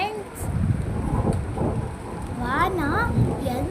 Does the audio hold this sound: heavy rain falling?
yes